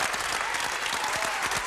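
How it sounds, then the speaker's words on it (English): Audience applause at a freestyle rap event, a dense steady wash of clapping filling the whole stretch with no break, fairly loud and close. "Let me get a fucking round of applause"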